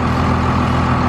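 A first-generation 12-valve Cummins diesel truck with big injectors running, a loud, steady low rumble close by for about a second.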